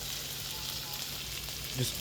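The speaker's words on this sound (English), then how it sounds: "I got some chopped up chicken, stir frying with some onions" Chopped chicken and onions sizzle steadily in a hot pan as they stir-fry, a constant crackling hiss with a brief clink of a utensil near the end.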